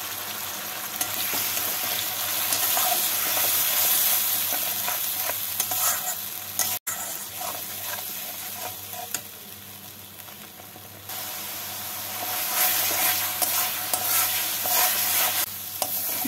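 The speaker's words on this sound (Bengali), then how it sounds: "মশলাটাকে ভালো করে কষিয়ে নিতে হবে।" Spice paste with a little water and sugar being fried and stirred in a pan, a loud, steady sizzle with scraping stirs that briefly drops out and then swells again, no speech.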